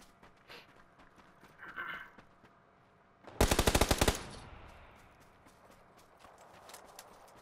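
A quick burst of airsoft or paintball shots snaps close by during an outdoor game, a tight rattling volley after scattered footsteps and rustling in the field.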